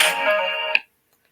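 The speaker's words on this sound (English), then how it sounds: "I'm going to have to silence that phone." A phone ringtone sounds indoors at a crafting table, a loud bright tone that rings for under a second and then cuts off abruptly into silence.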